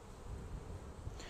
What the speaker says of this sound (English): So these bees are being nice and gentle.